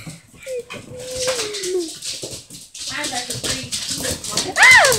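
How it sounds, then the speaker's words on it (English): Several puppies whimper and yip in a busy room, thin rising whines and short cries coming in bursts over a loud television and background chatter, with a sharp high yelp near the end. "It's chaotic puppies."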